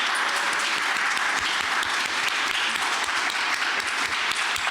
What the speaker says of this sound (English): So let's give them a huge round of applause too.